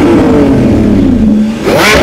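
Loud, close rev of a Lamborghini Revuelto engine, a brief high-pitched howl that climbs and dips before a sharp burst of rising revs at the end.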